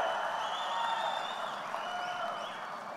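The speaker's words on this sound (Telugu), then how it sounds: "గట్టిగా చప్పట్లు కొట్టి హర్షాన్ని ఆమోదాన్ని తెలియజేయండి" A crowd at a TDP Mahanadu political rally in Kadapa claps steadily, a dense wash of applause that holds at an even level and tapers slightly toward the end, with no talk over it.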